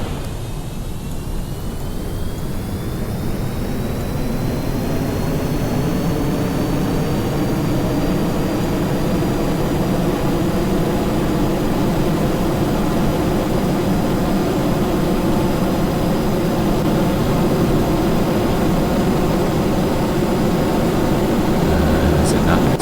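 A rocket engine launches in the Kerbal Space Program video game, giving a loud, steady, roaring rumble with a thin whine that climbs and holds throughout.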